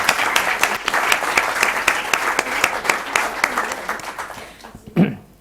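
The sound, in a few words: applause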